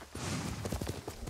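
Rhythmic clip-clop of horse hooves at a steady trot in the video game Ghost of Tsushima, fairly close, with a faint ambient hum underneath.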